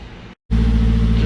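A brief lull gives way to a Mazdaspeed3 engine, fitted with a new downpipe, catching and settling into a loud, steady idle close by.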